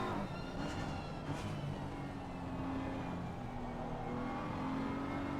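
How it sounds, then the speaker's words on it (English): A BMW race car engine in a racing video game, holding a steady continuous drone with layered harmonic whine throughout, fairly loud and alone with no talk over it. "Why do I really like the sound of the Beamer?"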